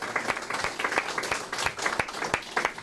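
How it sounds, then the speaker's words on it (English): An audience at a gun microstamping policy briefing claps in steady applause for the speakers, a moderately sized crowd with individual claps audible throughout. "Let's give a round of applause to all of our speakers."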